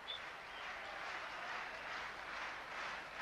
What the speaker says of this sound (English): the crowd enjoying that with a hand clap